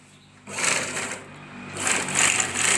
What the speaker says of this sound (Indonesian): tahap akhir adalah pengobrasan bagian-bagian kampuh yang dijahit tadi